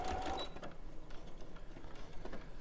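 A sewing machine runs in a continuous stitching burst, a close, steady mechanical whirr with rapid needle rhythm lasting the whole short stretch, with no talking over it.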